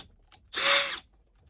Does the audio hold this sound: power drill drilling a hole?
yes